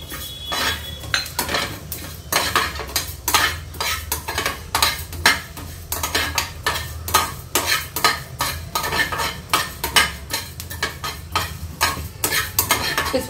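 Cumin and coriander seeds dry roasting in a pan, stirred steadily with a metal spoon, giving rapid repeated scraping and clinking strokes over a soft sizzle throughout.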